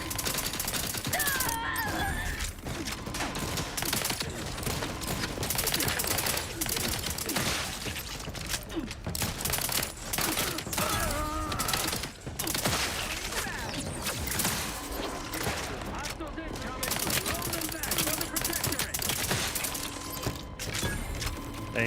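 Sustained automatic turret fire from the sci-fi video game Outer Worlds 2, a dense, continuous clatter of shots with metallic mechanical impacts, loud and unbroken across the whole stretch.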